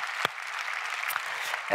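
Broad, steady applause from a church congregation during a Sunday service, filling the whole stretch at an even level and swelling slightly near the end.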